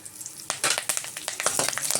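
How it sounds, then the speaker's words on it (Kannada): Mustard seeds and curry leaves hit hot oil in a pan and crackle, popping and sizzling in bursts that stay close and fairly loud over a steady frying hiss, with no talking. "ಎಣ್ಣೆ ಬಿಸಿಯಾಗಿದೆ. ನಾನು ಸಾಸಿವೆ ಹಾಕ್ಕೊಳ್ತಾ ಇದ್ದೀನಿ. ನೆಕ್ಸ್ಟ್ ಕರಿಬೇವು ಹಾಕ್ಕೊಳ್ತಾ ಇದ್ದೀನಿ."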